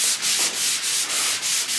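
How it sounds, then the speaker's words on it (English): Steady rhythmic rubbing strokes of block sanding on a car body panel, close and fairly loud, each back-and-forth pass repeating about every third of a second with no talking. "how he's block sanding right now and what he's using"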